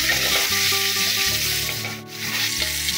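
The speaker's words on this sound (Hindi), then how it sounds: "अब इसको अच्छे से फ्राई कर लेंगे।" Mutton and potatoes fry in a hot pan with a dense, continuous sizzle, loud and close, briefly dipping before resuming, with no voices.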